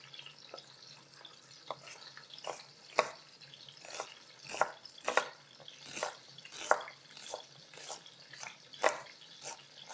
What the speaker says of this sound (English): So while the chicken is browning, I'm going to finely chop these 2 onions.